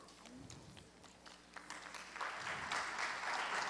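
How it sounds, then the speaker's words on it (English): Scattered audience applause at a prize presentation ceremony, a few loose claps at first that build into fuller, louder clapping toward the end, with faint voices in the room. "Please give him a big applause, please"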